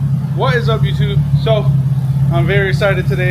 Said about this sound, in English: You can hear her in the background. She's idling